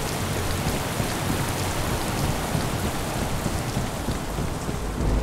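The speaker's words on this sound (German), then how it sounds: "Schaut euch mal den Regen an." Steady, dense rain from the VR game Boiling Steel VR, a constant hiss of drops pattering on surfaces, loud and unbroken throughout with no voices.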